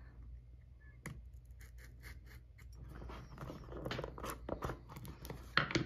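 Scissors or a blade cut open a Dragon's Hoard mystery dice pack, with close, faint scratchy snips and rustling crinkles of plastic packaging that grow busier toward the end.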